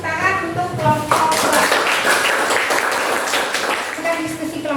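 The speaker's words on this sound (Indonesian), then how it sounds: "tepuk tangan untuk kelompok" A classroom full of students applauds a student group, a dense burst of clapping lasting several seconds with children's voices mixed in, fading as the teacher resumes speaking.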